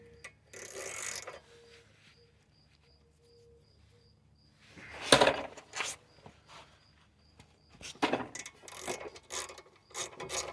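A ratchet tightens bolts on the half shaft of a 2007 Toyota Corolla, heard as quiet clicking with a few louder clattering bursts of metal tool handling close by.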